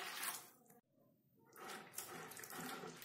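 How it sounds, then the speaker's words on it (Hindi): Water pouring into a bowl of soaked moong dal, a steady splashing flow that briefly pauses and then resumes, close and fairly loud. "इसमें हम और पानी डाल देते हैं।"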